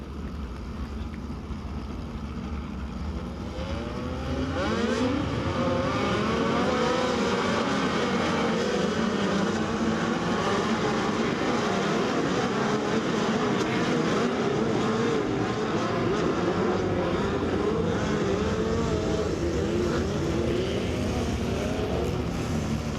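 Midget race cars of the POWERi Lucas Oil National Midget League circle Lake Ozark Speedway, a loud continuous engine drone that swells after a few seconds and holds steady, with a faint voice beneath.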